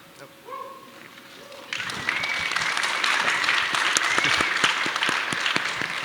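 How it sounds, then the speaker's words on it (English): A quiet room with a brief voice gives way to a sudden burst of audience clapping at a toy maker panel, sustained and fairly loud with a few sharp individual claps standing out. "You don't need to clap for that."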